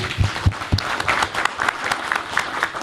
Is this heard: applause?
yes